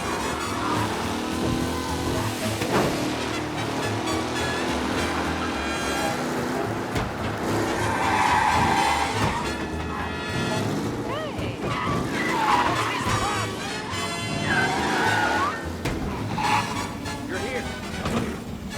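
Tyres skid and a race car's engine roars on a road in the Mafia video game, the squeal swelling repeatedly over a continuous engine drone with voices talking throughout.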